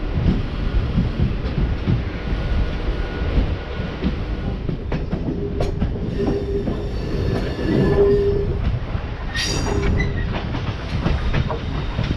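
A MEMU local train running on the Konkan Railway toward Chiplun, with loud continuous rumble and rhythmic wheel clatter from on board, plus metallic wheel squeals and a brief high horn-like tone partway through; no talking.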